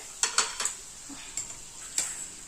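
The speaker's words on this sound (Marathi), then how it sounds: "आता फक्त एकच मिनिट छान हलवून घ्यायची आहे" A vegetable dish stirred in a pan with a few sharp metallic clinks of a spoon against the pan, spaced irregularly, quiet and close with no talking.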